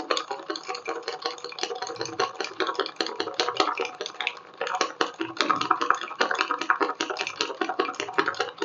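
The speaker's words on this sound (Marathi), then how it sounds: "हे बघा असं चमच्याने फेटतोय आपण" A spoon rapidly beating coffee and sugar in a cup into a creamy froth, a fast steady clinking and scraping rhythm held close for several seconds.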